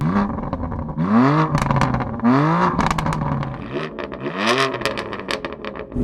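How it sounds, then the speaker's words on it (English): A 2020 BMW M4 Cabriolet engine revs repeatedly, each rising whine climbing then dropping, with a throaty exhaust rumble and some rattling in between. "Now I'd like to talk about that exhaust sound."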